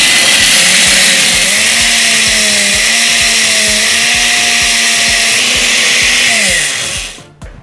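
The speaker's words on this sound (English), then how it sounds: "So I blended everything." A loud kitchen blender whirs steadily while crushing fruit, vegetables and ice, a strong sustained motor drone with a rattling grind that runs several seconds before switching off, no talking.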